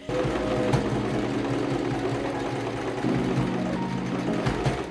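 A sewing machine stitches the bodice of a dog's Renaissance-fair costume with a steady, close mechanical whir that briefly shifts pitch partway through, with no talk.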